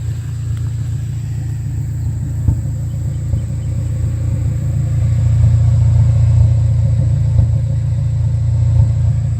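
A car engine idles steadily at close range, a low continuous rumble with slight unevenness and faint skips, no voices over it.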